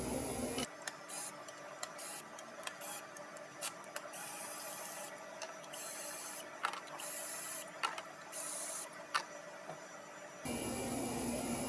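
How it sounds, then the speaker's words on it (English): A 1/4 inch impact gun with a 10mm socket runs in a long series of bursts while removing bolts on a 2013 Toyota Camry 2.5L engine, the rapid rattling hammering close and steady, broken by brief pauses. "Just using a 1/4 inch gun with a 10mm on it."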